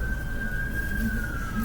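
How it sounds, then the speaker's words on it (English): A siren holds a steady, unbroken tone, fairly loud, over a low background rumble. "There's sirens."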